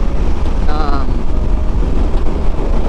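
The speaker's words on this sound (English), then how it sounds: "oh my god, it's windy" Steady wind rush buffets the microphone over a low engine rumble from a Honda Rebel 500 motorcycle riding on a freeway, constant and loud, with a brief faint chirp near the start.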